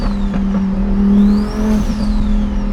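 A 1300hp twin-turbo Lamborghini engine fitted with T51R turbos, a loud close rumbling idle with a steady whining turbo tone that rises and falls briefly as the throttle is blipped.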